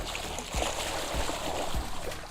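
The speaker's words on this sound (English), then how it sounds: "I swish around in the water like this." A child's playful water swishing during a game of mermaids, with soft rhythmic splashes recurring about every half second over a steady watery wash, close and moderately loud.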